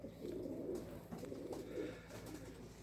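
Male homing pigeons coo steadily inside their coop, with soft, low, throaty warbles repeating close by over a faint background hum.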